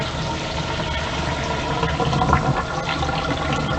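Kitchen tap water runs steadily while pasta shells are drained, a constant close rushing splash with no pauses across the whole stretch.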